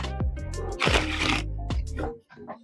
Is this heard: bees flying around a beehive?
no